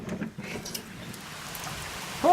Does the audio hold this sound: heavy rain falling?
yes